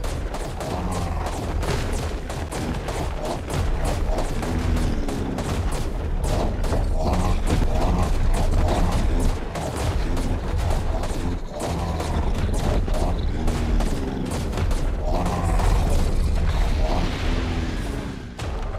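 Dense, continuous gunfire and booming blasts from a firefight against creatures in ARK: Survival Evolved, loud and sustained throughout with rapid overlapping shots and little pause.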